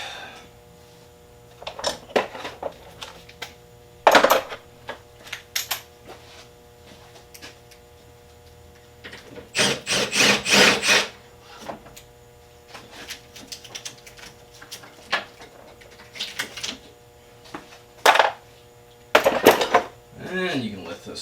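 Metallic clicks and ratcheting bursts from a wrench loosening a 10mm bolt on a Saturn Ion Redline oil cooler in an engine bay, several separate bursts with quiet gaps between them, close and fairly loud.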